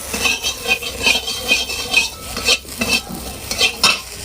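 Vegetables frying in a pan, with a close sizzle broken by rhythmic stirring and scraping of a utensil against the pan every half second or so, no talk.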